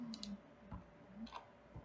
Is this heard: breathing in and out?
no